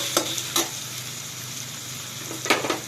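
Chopped tomato frying in a pan of oil for a pomfret fish curry, a steady sizzle heard close, broken by a few sharp scrapes of a spoon stirring.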